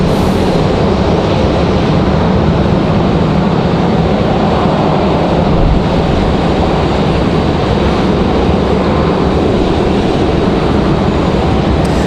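A FedEx jet coming down to land at Raleigh-Durham International Airport, a loud, steady broadband roar that holds for the whole stretch without break, no speech over it.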